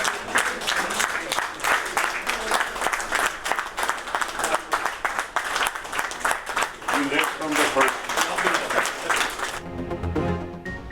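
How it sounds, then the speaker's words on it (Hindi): A cabinet meeting welcomes Prime Minister Shehbaz Sharif with sustained, dense applause from many hands that fills the room for about ten seconds before fading, followed by a short stretch of background music. "काबीना इजलास में वज़ीर आज़म शहबाज शरीफ का तालियों से इस्तकबाल।"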